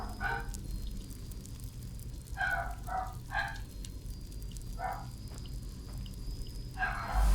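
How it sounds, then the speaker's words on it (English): Dogs bark outside, muffled and moderately distant, in a string of short barks, some doubled, scattered over a steady background hum. "Sorry about the dogs barking"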